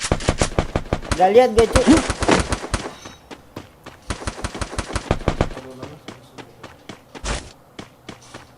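Rapid bursts of automatic gunfire and single shots crack out in a shooting video game, loud and near, with footstep-like thuds between volleys and a player talking over much of the action.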